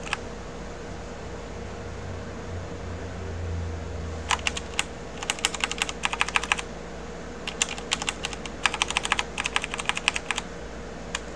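Keys on a computer keyboard are pressed in quick clustered bursts of crisp clicks, close and fairly loud over a steady fan-like hum, with short pauses between runs.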